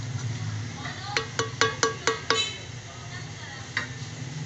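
Kebabs cook in a pan at a home kitchen stove, with a soft sizzle under a run of six sharp, evenly spaced metallic taps, then quieter frying and one more knock. Someone speaks briefly alongside.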